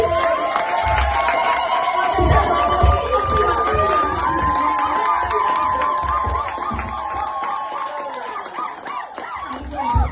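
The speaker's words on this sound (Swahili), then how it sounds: "piga Yesu makofi mazuri" A church congregation claps and cheers for Jesus, with many voices shouting and whooping over a steady patter of hands, loud and sustained throughout.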